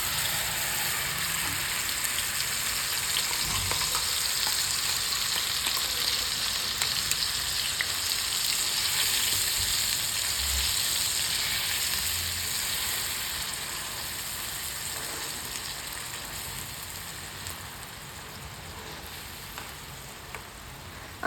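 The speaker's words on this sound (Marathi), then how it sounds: "आपल्याला हे वाटण चांगलं तेलात परतून घ्यायचं आहे, तेल सुटोपर्यंत।" A ground spice paste with cumin and ajwain fries in oil for a green moong dish, giving a steady even hiss that carries on for a long stretch, close and fairly loud, no speech.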